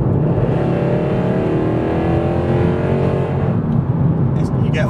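A Mercedes C63 AMG engine revs hard under acceleration, a loud, continuous roar with rising harmonics heard from inside the car for the whole stretch, easing slightly near the end.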